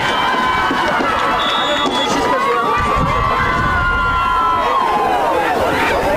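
Loud, steady roar of a high school football crowd cheering and shouting at a Clark/Willow Lake state quarterfinal game against Winner, with dense voices and a rising, whistling swell running throughout.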